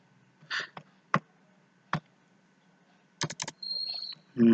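Code is typed on a computer keyboard during a Python lesson: a few isolated key clicks, then a quick cluster of presses ending in an enter stroke, close and clear in a quiet room.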